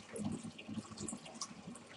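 Liquid pours steadily into a large bottle while apfelwein, a German apple wine, is being mixed, a faint continuous splashing gurgle without talk.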